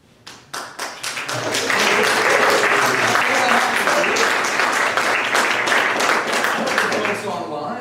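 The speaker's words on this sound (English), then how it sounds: "Folks online are clapping as well." An audience at an evening community book event bursts into applause, starting with a few scattered claps and swelling into steady, dense clapping that holds and then gradually eases off.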